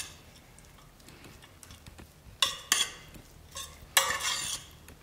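Grated cheese being mixed into a corn samosa filling in a bowl: faint soft stirring at first, then a few louder scraping, clinking bursts of utensil against the bowl near the end.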